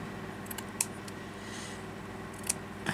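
Scissors make a few short, crisp snips while cutting a piece off the top of a paper craft tag, quiet and close against faint background hiss.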